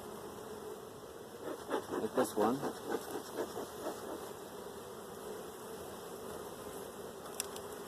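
Honeybees from an opened nuc hive buzz in a steady background drone, with a short burst of louder, pulsing hum nearby while a person speaks briefly over it.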